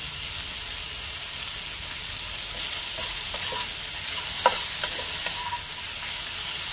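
Chicken fries in a pan with a steady, even sizzle and hiss, broken by a few soft stirring scrapes and one brief clack near the middle; no voices.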